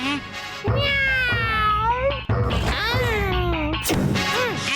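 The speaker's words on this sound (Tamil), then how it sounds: "பாக்ஸர் அண்ணாத்த, நீங்க உங்க பூனைய கூட்டிட்டு போயிடுங்க" A cartoon cat meows and caterwauls loudly in long, wavering drawn-out cries, several in succession with a sharp clattering hit partway through, close and prominent.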